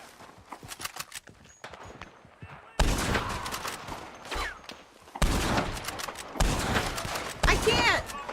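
Sniper rifle gunfire in the online Western game Red Dead Online, several sharp, loud shots spaced apart amid horse hoofbeats and in-game background sounds.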